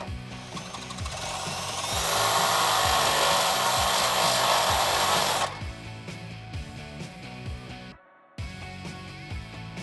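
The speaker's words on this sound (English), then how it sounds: "I'm stepping down to a 3/8 inch drill bit and going to try to round out that inner hole" A drill with a 3/8 inch bit grinds loudly into metal on a Jeep Wrangler JK for several seconds, then stops, leaving a rhythmic mechanical background that briefly cuts out before resuming.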